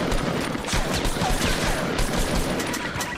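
Dense, continuous rapid gunfire in the Fortnite battle royale, a loud unbroken fusillade of overlapping shots filling the whole moment without talk.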